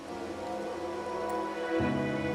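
Steady rain falls in the video game Wuthering Waves as an even, close hiss with a faint low hum underneath, with no talking.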